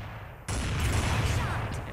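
Sniper rifle fire in a shooter video game: a sudden loud shot with a burst of dense, booming gunfire that keeps rumbling to the end, with no speech over it.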